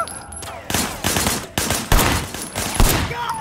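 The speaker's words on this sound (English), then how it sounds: "Shooting at the guys over there." Gunfire erupts in the video game Sleeping Dogs Definitive Edition, a string of loud, close shots and short bursts cracking out in quick succession for a few seconds.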